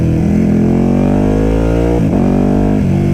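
A carbon-bodied Ducati Panigale sportbike with a lightweight chain and sprockets, its engine revving loudly and rising in pitch, then dipping sharply at each gear change before climbing again.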